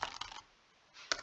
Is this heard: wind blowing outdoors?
no